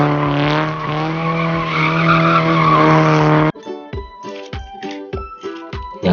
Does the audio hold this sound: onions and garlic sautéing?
no